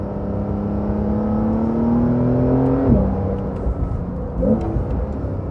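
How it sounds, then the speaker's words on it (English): A 2020 Porsche 911 Carrera 4S flat-six engine revs steadily as the car accelerates uphill, its rising note climbing for about three seconds before a gear change drops the pitch, then a deep rumble continues with a brief second surge near the end. "hear that engine. It's just definitely a trademark 911 engine sound."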